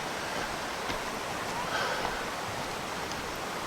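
Water rushes down a pristine, primitive mountain valley stream with waterfalls and pools, a steady broadband roar with no talk over it.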